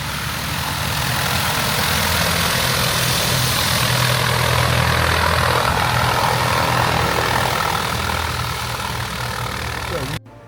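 A Cessna 182 propeller airplane engine drones steadily and loudly at an airpark, with a rough low rumble and no pauses, before cutting off at the end.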